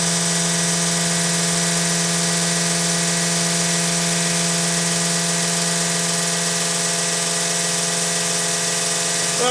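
A GPI 12 gal/min 110V diesel fuel pump runs at a constant electric hum and whine. It is steady and close, with no change in pitch through the clip, and nothing else is heard.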